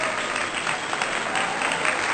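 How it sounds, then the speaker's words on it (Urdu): Dense, continuous audience applause fills a school annual day function, a steady roar of many hands clapping together at close range with no pauses. "زوردار تالیاں ان ننھے فنکاروں کے لیے اور ان کی اساتذہ کے لیے"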